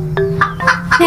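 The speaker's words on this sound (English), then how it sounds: "This is a hen." A domestic hen clucks in a quick series of short, close calls, several evenly spaced notes over a steady low background hum.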